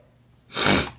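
A single loud, close sneeze from a person in the middle of a rhinitis sneezing fit, a sharp burst following a short quiet breath.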